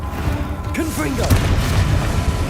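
Explosion of the Confringo blasting curse in the Hogwarts Legacy video game, a single deep boom followed by a rumbling tail, with spell whooshes and a voice speaking just before.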